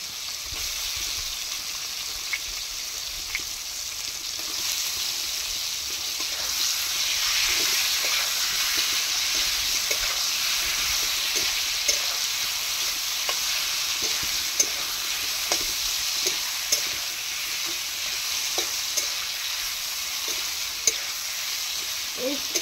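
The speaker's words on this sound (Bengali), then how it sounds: "এই তেলের সঙ্গে আমি ঝিঙাগুলো একটু ভেজে নেব।" Ridge gourd fries in hot oil with a steady, close, even sizzle that runs throughout, broken now and then by soft clicks and scrapes of stirring. No voices.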